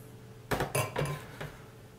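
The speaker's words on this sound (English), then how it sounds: "I'm just going to use a fork just to mix that egg in slightly" A fork clinks and scrapes against a bowl while mixing cracked eggs into grated zucchini and almond flour, four quick close metallic strokes with short gaps and no talking.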